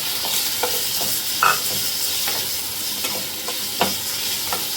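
Big onion sautéing in a pan for chutney, a steady sizzle broken by close scraping stirs of the spatula, no talking.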